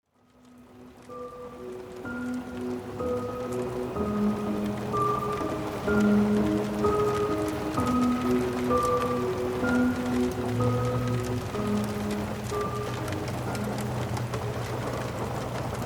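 Steady rain fades in and settles into a constant, even patter, with soft sustained musical tones drifting over it throughout.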